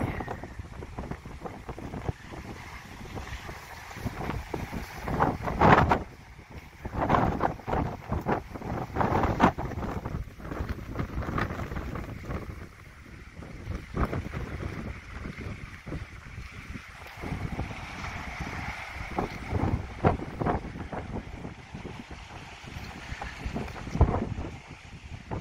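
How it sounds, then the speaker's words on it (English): Strong coastal wind at Snapper Point buffets the microphone in loud, gusty rumbling bursts that rise and fall throughout, with a faint wash of surf beneath. "Sorry if there's a lot of wind."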